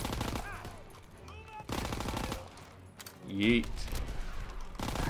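Gunfire in Call of Duty: WWII, Operation Stronghold campaign, rapid bursts of shots under someone talking, with bright synthetic game effects chiming briefly.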